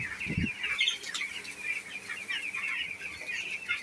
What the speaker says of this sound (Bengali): এই যে সেই 250 যে মুরগির ফার্মটা আছে ছোট